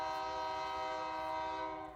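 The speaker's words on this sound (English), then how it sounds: "Running another fucking train through here." A Union Pacific freight train sounds its horn in one loud, sustained, steady blast close by, with the rumble of the passing train underneath and no voices.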